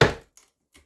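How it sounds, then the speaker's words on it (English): A chisel bites into wood during a simple toolbox build with hand tools. One sharp, close strike is followed by two faint, brief taps. "Keep your chisel cuts together."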